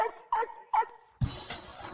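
An Airedale terrier barks three times in quick succession, fairly close and clear, followed by a noisier burst of mixed sound.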